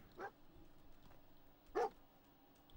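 A dog barks in the Fallout 4 video game, two short separate barks about a second and a half apart, moderately loud over a low steady background.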